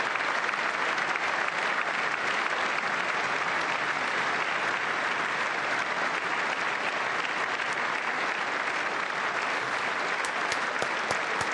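A large audience at the State of the Union claps continuously in a thick, even roar of hands, holding steady for several seconds before a few sharper, more separate claps near the end.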